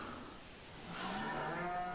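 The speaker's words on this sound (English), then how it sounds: "Looks like I'm hearing cows, but I don't own any, which is weird." Cows mooing on a farm in Farming Simulator 15, a drawn-out low bovine call that swells midway and holds to the end, fairly near with a faint background bed.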